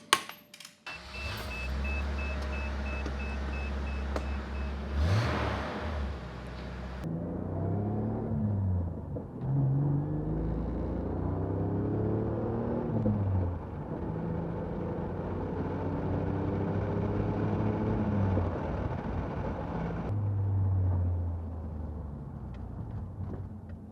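A car with a newly installed muffler revs and pulls away with a sporty, non-droning exhaust note, rising through several gear-like sweeps before settling to a steady cruise rumble, heard alone without talk.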